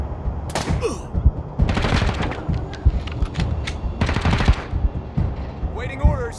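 Combat in the video game Wasteland 3 brings loud, clustered bursts of automatic gunfire with scattered heavier booms and short pauses between volleys.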